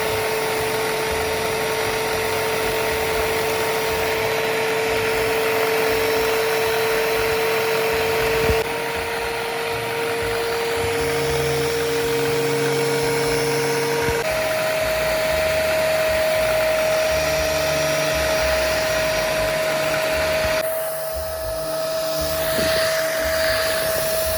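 Handheld mattress vacuum running continuously over a mattress cover, a loud close steady whine whose pitch shifts in steps as the nozzle moves, with no talk.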